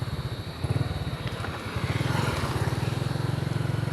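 A motorcycle engine putters past nearby at a port, its rapid low thrum rising slightly in loudness, with no talking.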